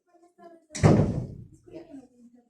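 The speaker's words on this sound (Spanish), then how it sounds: "Entres y cierra la puerta." A classroom door is shut with a single solid thud, followed by brief soft rattling, between moments of quiet speech in the room.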